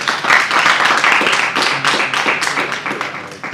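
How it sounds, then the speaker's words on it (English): An audience claps together at a gathering in Kano State, dense sustained applause for several seconds that gradually thins near the end. "So let's applaud ourselves."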